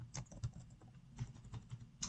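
Fingers typing a name on a computer keyboard in Microsoft Word, a quick irregular patter of soft key clicks, faint and close with no voices.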